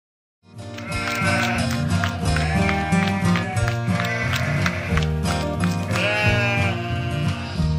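Cartoon lambs bleat in a Vietnamese animated fairy tale, steady and loud over a full musical score with horse-like clip-clop and running sounds mixed in.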